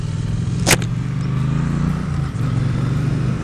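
A Triumph Bonneville T100 motorcycle pulls hard on an open road, its engine holding a steady low rumble under wind roar, with a brief sharp click early and a slight dip before the drone resumes.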